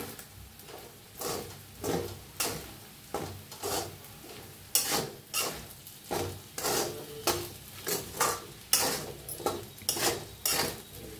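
Peanuts are pounded into powder for sabudana khichdi, a steady series of rhythmic crushing and scraping strikes, roughly two per second, close and clear with no talking.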